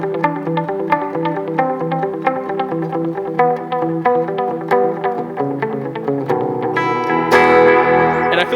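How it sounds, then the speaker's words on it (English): Electric guitar run through a delay pedal, repeated notes echoing into each other in a steady rhythmic pattern, loud and alone, swelling into a brighter, denser wash near the end. "So this kind of sound is what I would typically use a delay for"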